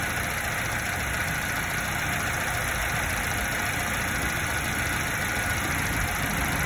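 Subaru Sambar engine bogging while its carburetor is tuned, a steady broadband engine drone holding close and loud throughout with no voices.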